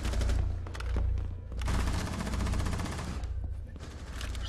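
Rapid bursts of video game gunfire from Tom Clancy's Rainbow Six: Siege crackle almost continuously over a low rumbling background, dense and loud, with brief lulls between volleys.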